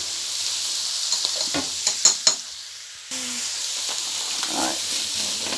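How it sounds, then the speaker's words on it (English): Pumpkin cooking in a pot gives off a faint steady sizzle, broken by a few clattering stirs of a utensil and a brief pause, close but quiet. "Pumpkin, give it a good stir"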